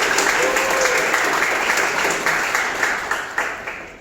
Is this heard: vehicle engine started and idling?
no